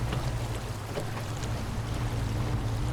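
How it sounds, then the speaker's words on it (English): A truck churns through deep water in the SnowRunner video game, a constant rumbling engine drone under a continuous sloshing, washing rush of water. "as you drive through here, it'll tell you dangerous water level"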